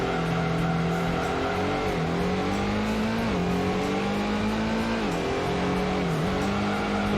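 Race car engine in the Gran Turismo video game drones steadily, pitch dipping briefly at each gear shift several times before climbing again, loud and continuous with no talk.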